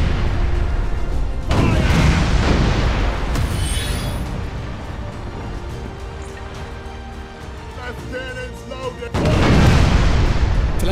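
Cannon fire from sailing ships in the naval video game Furious Seas, with heavy booming bursts opening and closing the stretch and a quieter rumbling battle between them.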